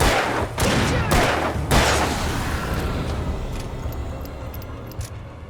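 Close, loud gunshots and a rapid volley ring out in the Alan Wake video game, three heavy blasts up front, then a long decaying rumble with faint clicks trailing off.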